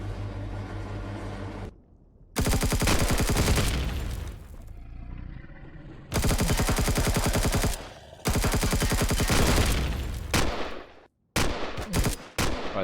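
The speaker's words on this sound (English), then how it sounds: "I think we can do this with a normal rifle" Long bursts of rapid rifle fire in the Empyrion Galactic Survival video game, loud and dense, broken by brief pauses and ending in short choppy volleys.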